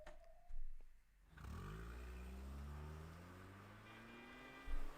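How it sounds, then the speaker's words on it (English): A car accelerates away in the video game Rose Guns Days. Its engine revs up into a steady rising drone that fills the background, with a short thump before it and another near the end. "The car entered a major road and was swallowed up by traffic."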